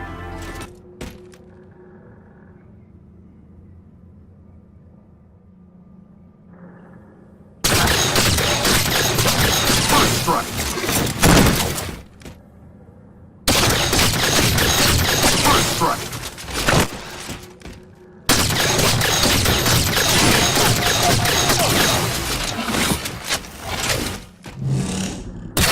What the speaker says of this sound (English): This gun takes about 5 seconds to shoot 12 bursts or 12 shots